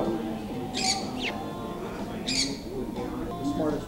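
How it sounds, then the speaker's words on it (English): A white-breasted caique parrot gives several sharp, raspy squawks in short bursts, close by, over a low indoor background. "This is a white-breasted caïque."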